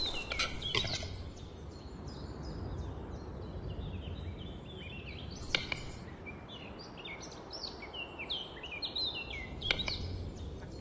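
A western capercaillie calling in the forest, given as a series of clicking, popping and gurgling notes over a wash of ambient noise, with a few sharp clacks standing out.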